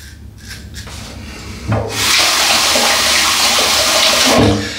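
Tap water pouring into a hotel wash basin that has a faulty plug, a steady, loud rushing hiss that starts after some brief rubbing and handling sounds and runs for a few seconds before cutting off.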